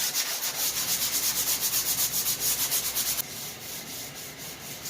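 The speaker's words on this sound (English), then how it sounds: "then I like to use this little block sander. These work really good. Kind of fine tune it." A small block sander rubs back and forth over a drywall patch in quick, even strokes, loud and close, then eases into a softer, steadier scrape near the end.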